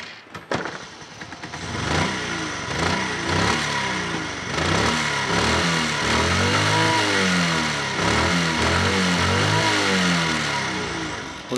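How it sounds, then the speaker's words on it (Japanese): A Honda Cub moped kick-started by foot because the electric starter won't turn: a few kicks, then the engine catches and runs, with uneven revving and idle held close throughout. "ではこの状態でエンジンをかけてみます。"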